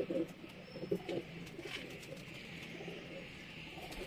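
Pigeons coo in a breeding setup with golden pigeons, soft low rolling calls repeating near the start and then fading to a quieter background murmur with faint chirps.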